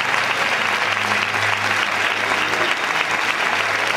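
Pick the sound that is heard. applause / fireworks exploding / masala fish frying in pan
applause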